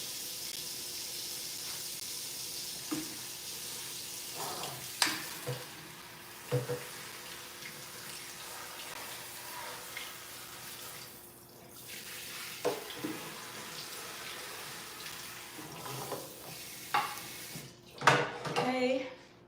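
Something is rinsed out under running kitchen tap water, a steady hiss of flow broken by clattering knocks and splashes, and a voice talks briefly.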